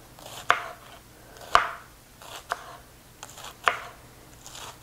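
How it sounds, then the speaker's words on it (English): A sharp knife slices cabbage very thin for pineapple coleslaw, each cut a crisp, close chop on a board, arriving in a slow uneven rhythm of about six strokes. "I'm going to take my sharp knife and I'm just going to go very thin and then just slice it."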